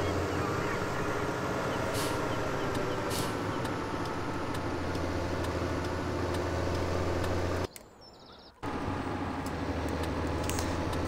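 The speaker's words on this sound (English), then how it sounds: "Just fun to accelerate, go pretty fast in this tractor." A tractor engine in the Farming Simulator 17 video game drones with a low, steady hum as it accelerates, then drops out briefly near the end before the hum returns.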